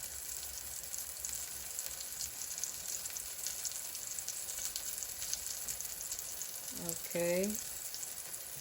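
Green tomatoes frying in a pan, a soft, steady sizzle heard close up, with a brief spoken word near the end.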